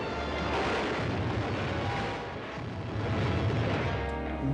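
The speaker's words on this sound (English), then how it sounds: "The continued wave of death-dealing explosions struck yesterday at Area Defense Headquarters." Explosions in The Robot Vs The Aztec Mummy form a loud, continuous roaring rumble of blasts, with dense booming that swells and eases without a break.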